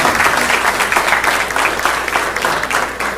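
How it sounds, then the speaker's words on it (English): At a school board meeting, the audience applauds the cross country team with loud, continuous clapping from a full room, steady and undiminished throughout. "Again, a round of applause for cross country,"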